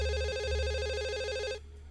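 A telephone rings in the video game Dog Mendonca & PizzaBoy, a steady electronic trill that holds loud and clear for about a second and a half, then cuts off abruptly, leaving a quiet hum.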